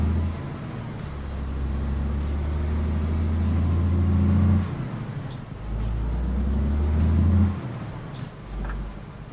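A Western Star truck in American Truck Simulator pulling away across a yard with a reefer trailer: deep, loud engine drone rising through two gear pulls, each ending in a drop, with a hiss of air near the middle.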